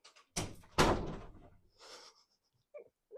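A door closes with a couple of solid thuds in a quiet indoor room, followed by faint shuffling and small knocks.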